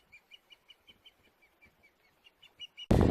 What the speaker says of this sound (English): But I'm not sure if that is a bald eagle cry.